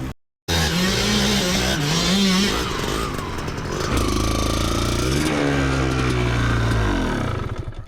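A Stark Varg 80HP electric motocross bike rides off-road, its motor whining loud and steady with rising and falling pitch sweeps as it accelerates, plus wind and tyre noise close to the rider.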